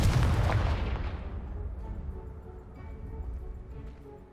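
A Confringo blasting spell explodes in a Harry Potter video game: one loud, deep boom that bursts out at once, then rumbles and slowly fades over several seconds.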